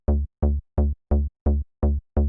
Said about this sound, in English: A regular driving bass will be like this.